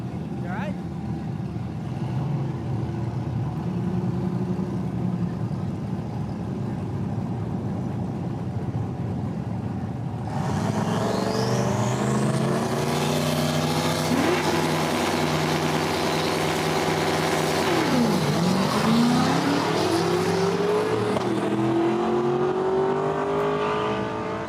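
Drag racing cars, including a '67 Camaro, launch and accelerate down a no-prep strip, a loud engine roar rising and sweeping in pitch through gear changes, under a commentator's voice.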